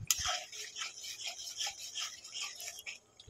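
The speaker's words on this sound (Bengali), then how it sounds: "ভালো করে মশলাটা কষিয়ে নেব।" Spice masala stirred and fried in a pan for a kofta curry, a quiet rhythmic scraping and rubbing of a spoon repeating through the sound, soft and close.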